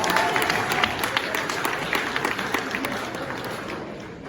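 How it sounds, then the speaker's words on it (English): A crowd claps steadily in dense applause, a continuous rattle of many hands filling the space, easing slightly toward the end. "a round of applause."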